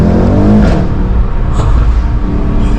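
A Mercedes E63 S AMG with a sports exhaust accelerates, its engine holding a loud, steady low roar close by with no talking.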